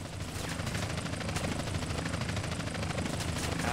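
A helicopter in the video game Grand Theft Auto San Andreas gives off a loud, steady rotor thrum with a rapid chopping pulse that holds unbroken throughout, with no talking.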